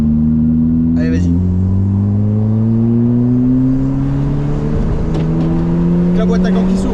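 A Peugeot 307 engine revs as the car pulls away, a loud steady drone whose pitch climbs gradually, with people talking over it in the cabin.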